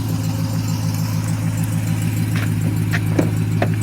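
A 2022 Dodge Ram 1500 TRX crew cab truck's 6.2-liter supercharged V8 idles with a steady, deep, throbbing hum close by, broken by a few faint clicks near the end.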